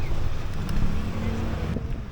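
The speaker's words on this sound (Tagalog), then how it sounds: "Sobrang lakas ng hangin." Strong gusts buffet the microphone at a seaside grotto in Dingalan, Aurora, a loud, continuous rough roar across the short clip, with a voice speaking briefly underneath.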